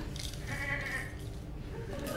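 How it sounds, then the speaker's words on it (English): A goat bleats once, a wavering mid-pitched cry held for about half a second, set among background murmur and low rumble in a dramatized sacrifice scene. "Can we slaughter this goat for her now?"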